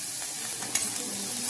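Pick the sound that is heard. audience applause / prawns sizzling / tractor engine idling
prawns sizzling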